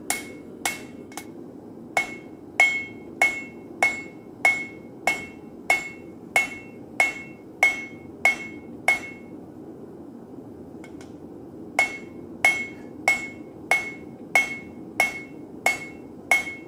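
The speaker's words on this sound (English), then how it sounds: "you see Thomas using the cross peen of his hammer versus the flat face and the horn of the anvil" A blacksmith forges a hot steel bar on an anvil for a movie prop, using the cross peen and flat face of the hammer and the anvil's horn: loud, evenly spaced ringing strikes in a long steady series, a short pause, then more blows.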